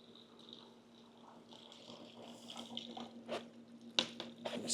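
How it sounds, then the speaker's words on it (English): A portable washing machine used for microfiber towels drains water into a floor drain, giving a faint, continuous trickle and splash over a low motor hum, with a few sharper drips near the end. "In fact, it's draining the water right now."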